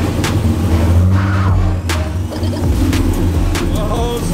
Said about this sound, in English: Drift car runs again.